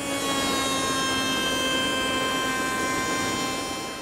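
A router table fitted with a quarter-inch radius roundover bit shapes a wood edge, giving a loud, steady, high-pitched whine that holds evenly for a few seconds before tapering slightly at the end.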